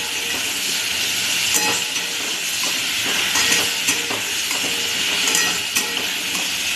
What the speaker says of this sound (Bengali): ভালো করে লাল লাল করে ভাজবো